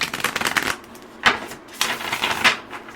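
Tarot cards are shuffled by hand in quick riffling bursts, three close crisp flurries separated by brief pauses, heard alone.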